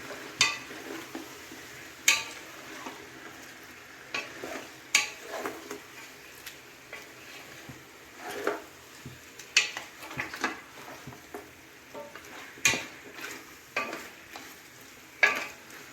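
Chicken roast frying in a pan as it's mixed, with a soft background sizzle broken by a dozen or so sharp spatula scrapes and knocks against the pan at irregular intervals, close and fairly quiet.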